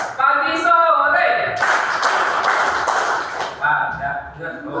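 A second-grade elementary class claps a rhythm together in a classroom during a geometry lesson, a dense burst of clapping after a teacher's voice, with speech before and after.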